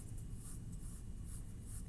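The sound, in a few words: pencil sketching lightly on paper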